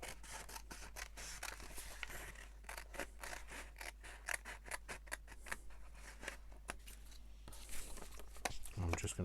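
Scissors snip repeatedly through paper for a no-sew journal, a close series of crisp cuts in an uneven rhythm, with a voice talking now and then between them.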